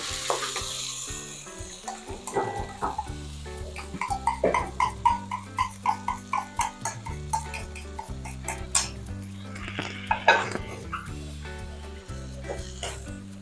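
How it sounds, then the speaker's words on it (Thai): Canned fish being mashed and stir-fried in a pan for Thai chili paste, with a run of quick, fairly loud metal spatula scrapes and taps against the pan over a soft sizzle, and a voice speaking now and then. "ผมจะยีให้มันเป็นชิ้น แล้วก็ผัดให้เข้ากัน"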